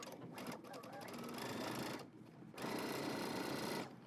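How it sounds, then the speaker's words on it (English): A sewing machine stitches a seam on a side-gathered McCall 7833 dress. Its close, steady whirring runs continuously, pauses briefly near the middle, then starts again before stopping. "back stitch at the beginning and at the end"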